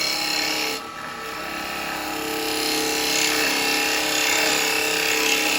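Steady scraping hiss of a chisel taking a slow cut on a cherry bowl spinning on a wood lathe, a continuous close shaving sound with a brief dip near the start, no talking.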